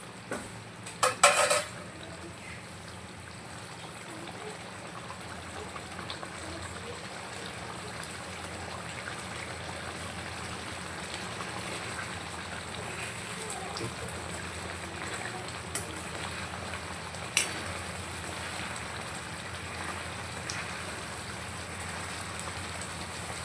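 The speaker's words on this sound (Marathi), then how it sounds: "हे आपलं वांगे पूर्णपणे झालेले आपण याला पाच मिनटं अजून उकळून घेऊ" Eggplant curry in black masala simmering in a pot, a steady soft bubbling hiss held at low level throughout, with a couple of brief louder clinks near the start.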